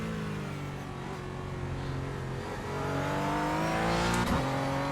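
A Porsche 718 Cayman GT4 racing in iRacing drones and climbs through the revs, its engine note rising in steady pitch sweeps with gear changes and growing louder toward the end.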